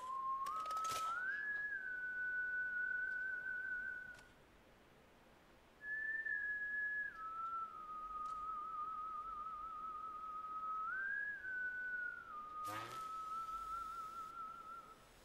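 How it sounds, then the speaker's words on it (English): A long tuneful whistle in the Borderlands 3 video game, a clear sustained pitch that steps up and down in phrases with a short pause midway, loud and alone. "The whistle."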